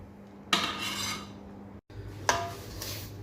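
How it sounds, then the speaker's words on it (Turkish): A wooden spoon scrapes and rubs against a bowl while slowly folding meringue with ground hazelnut, pistachio and sugar mixture, two distinct close strokes over a low steady kitchen hum. "bezemizi toz fındık, fıstıklı ve şekerli karışımımızı yavaşça karıştırıyoruz. Tahta kaşık kullanıyoruz."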